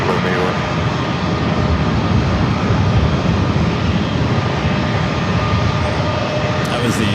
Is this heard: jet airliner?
yes